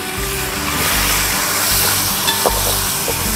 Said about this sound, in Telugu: పచ్చివాసన పోయేదాకా ఫ్రై చేసుకుందాం